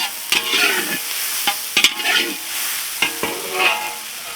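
Hot oil sizzles steadily for a dahi pakhala tempering while a spoon scrapes and stirs through it, with several sharp knocks against the pan and no talk.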